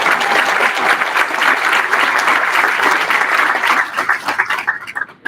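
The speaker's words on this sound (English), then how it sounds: "Please give Deborah another round of applause." Applause rises from the audience at a prison reentry program graduation ceremony, a full, loud wash of clapping that holds steady before breaking into scattered claps at the close.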